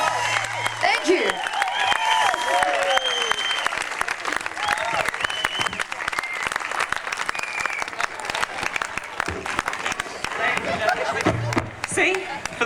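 Crowd applause for a band at the Sydney Gay Mardi Gras Fair Day, a dense, sustained outdoor clapping that stays loud for the whole stretch, with a few cheers mixed in.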